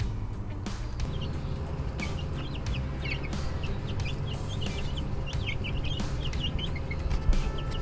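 Chickens cluck in a coop, their short, scattered calls rising over a constant low background hum, with no voices heard.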